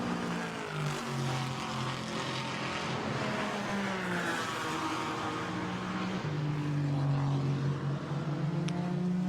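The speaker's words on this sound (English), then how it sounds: "Number 17, Camaro, still at the helm of it, is Timo Nabuurs" A Chevrolet Camaro GT4 race car drones around the Spa circuit, its engine note rising and falling through gear changes, loud and steady with no voices over it.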